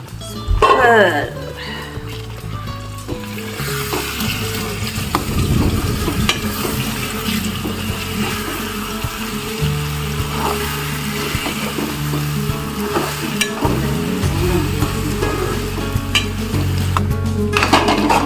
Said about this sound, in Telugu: వంకాయ పేస్ట్ని కలిపేశారు